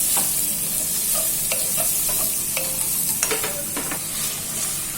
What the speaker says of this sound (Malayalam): നമുക്ക് ഈ ഉള്ളി ഇട്ടിട്ട് നല്ലോണം വഴറ്റാം.